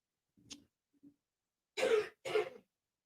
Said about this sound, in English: And I'm coughing.